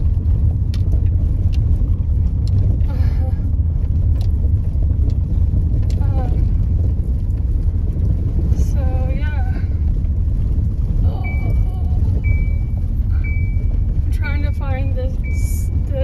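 A car crawling along a rough, unpaved track across the Nebraska plains gives a constant, heavy low rumble with wind buffeting, while faint bird chirps come through in the second half.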